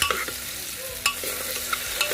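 Garlic and spices roasting in hot oil alongside tomato for a Maharashtrian drumstick amti, with close, crackling sizzle and a few scraping stirs of a spoon against the pan, no voices.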